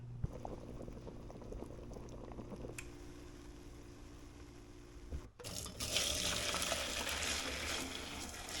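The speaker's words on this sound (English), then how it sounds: "Now this broth we're going to bring up to a boil, down to a simmer, and let it go probably for about an hour" Broth boiling in a pot on the stove, a soft steady bubbling that swells into a louder, hissing roil partway through.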